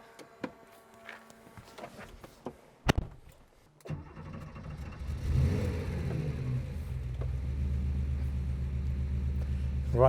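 Air-cooled flat-six of a 1979 Porsche 911 SC starting up for a test drive: a few clicks and knocks, then the engine catches and settles into a steady, close rumbling idle that swells briefly before holding.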